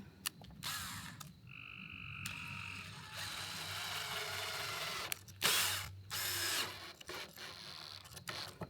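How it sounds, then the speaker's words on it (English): A loud chorus of frogs croaking and trilling in long rattling bursts, some calls close and buzzy, others layered behind in a steady night-time din. "It's frog season, guys."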